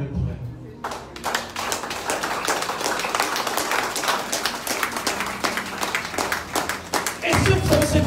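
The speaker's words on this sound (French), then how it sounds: "Acclamez pour elle." A church congregation at a Sunday service claps for one of its members, a dense run of quick sharp handclaps that continues for several seconds, with a voice speaking over the applause at the start and end.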